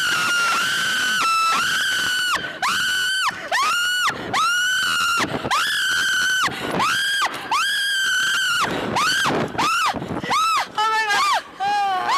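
A person screams repeatedly during takeoff on a thrill ride, long loud close shrieks one after another in rising and falling waves, with shorter breathless cries near the end.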